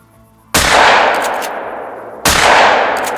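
Two loud, close shotgun blasts fired at geese in the hunting game Hunter: Call of the Wild, about two seconds apart, each booming and then rolling away in a long fading echo.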